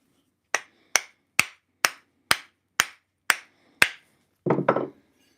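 Eight sharp hammer blows strike evenly to seat an M1910 hand axe head onto its wooden handle, about half a second apart, followed by a brief scraping knock at the end.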